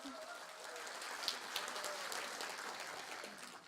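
An audience at a political party briefing gives a lawmaker a round of applause, a faint, distant patter of many hands clapping steadily without a break.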